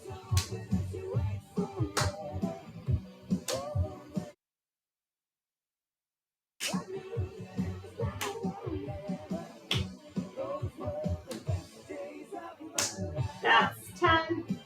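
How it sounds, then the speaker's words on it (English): Hands clapping during a seated twist-and-clap exercise class, sharp claps repeating in a steady rhythm with a few seconds of silence midway, close and moderately loud. "same thing, twist and clap"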